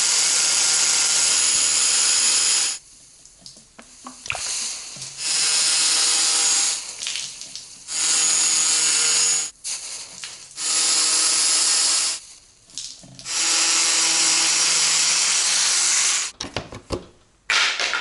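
A power tool whirs in repeated loud bursts of a few seconds each, separated by short quiet gaps with small clicks, while the fender bolt and nut are removed from an NA MX5 Miata.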